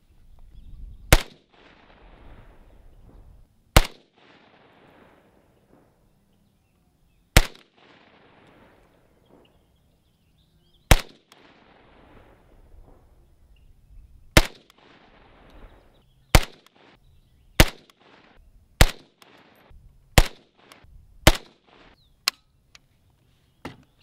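A Century AES 10B Romanian RPK rifle fires ten single rounds at 50 yards. The sharp, loud cracks are spaced a few seconds apart at first and come quicker toward the end, each one followed by a short outdoor echo.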